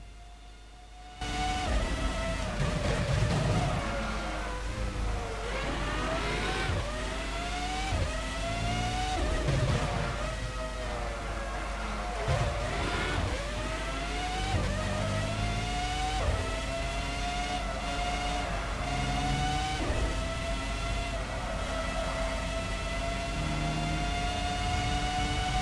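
Formula One car engine in the Formula One 05 video game at the Spain circuit, screaming at high revs with repeated rising upshift sweeps and drops for braking across a full lap, loud and continuous with no talk.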